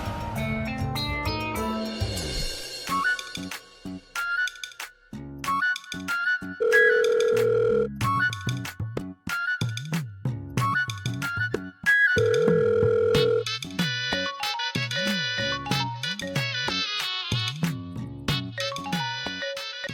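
A phone ringtone melody plays repeatedly with ringing tones, continuing unanswered for a long stretch without anyone talking.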